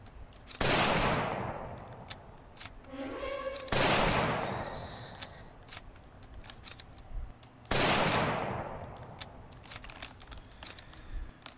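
Three loud, sharp hunting rifle shots ring out in the Project Zomboid video game, spaced a few seconds apart, each with a long fading tail. Clicks of reloading and faint game sounds fill the gaps.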